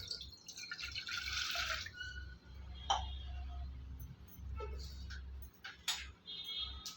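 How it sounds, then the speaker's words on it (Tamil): A glass of water is poured into a cooking pot while black urad dal porridge is being made, giving a brief splashing gush followed by scattered drips and light clinks at close range. "இப்போ ஒரு கிளாஸு தண்ணியை இந்த பாத்திரத்தில் ஊற்றிக்கலாம்"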